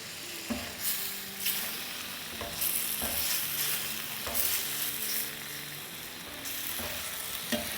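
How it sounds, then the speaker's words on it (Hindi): Spiced masala for dal tadka sizzles and fries steadily in a pan, with a spoon stirring and scraping at intervals; close, continuous frying with no voices. "तो ये बड़े अच्छे से मसाला भुन गया है।"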